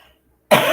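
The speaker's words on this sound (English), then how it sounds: "been coughing. I do not know why." A single harsh cough bursts out abruptly after a moment of near silence, close and loud, lasting a fraction of a second.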